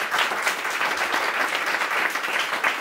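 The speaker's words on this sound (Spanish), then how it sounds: "damos un aplauso a mi gente" Steady audience applause at a Spanish-language talk or lecture, a dense even clapping that fills the short moment without voices.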